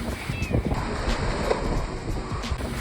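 Ocean waves washing ashore at a beach on a bright day, a steady broadband surf roar with gusts of wind buffeting the microphone, continuous and fairly close throughout.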